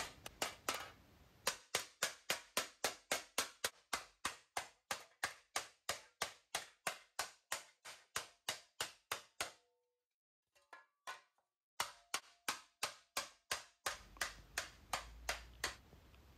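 A hammer beating an aluminium sheet into a dish shape, giving a long run of sharp, evenly spaced metallic blows, close and loud, with one brief pause before the strikes resume.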